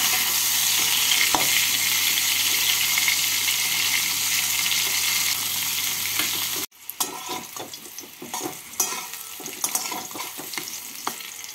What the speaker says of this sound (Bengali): তেলটাকে গরম করে নিয়ে প্রথমে আমি কুমড়োগুলোকে ভেজে তুলে নেব